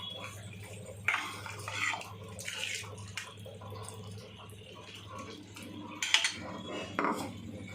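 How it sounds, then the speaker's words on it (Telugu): Metal pots and utensils clatter and clink while water from the curry is poured and splashes into a pot of vegetable kurma, in short bursts over a low hum. "కొద్దిగా కూరలోని వాటర్ పోసుకున్నాము."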